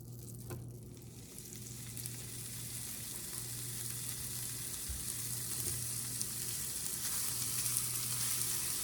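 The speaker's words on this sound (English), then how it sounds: "Let's let these guys cook up, and then we're going to put the cheese on" Burger patties fry on a hot surface, giving a steady, fairly quiet sizzle that grows slightly over several seconds, with a low hum underneath and no talking.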